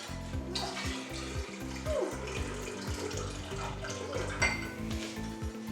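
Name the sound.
pouring apple juice into container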